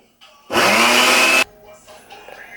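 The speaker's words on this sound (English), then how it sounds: "I'm going to blend away." Kitchen blender whirs loud and steady for about a second, blending vegan meatloaf ingredients with half a cup of cooking oil, then cuts off to quiet background noise.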